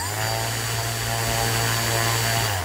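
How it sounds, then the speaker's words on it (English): A small RC brushless motor with a propeller whirs as its throttle is raised, giving a loud, steady, whining buzz with a bright tonal hum that holds close and constant for a few seconds. "the motor starts to spin even quicker"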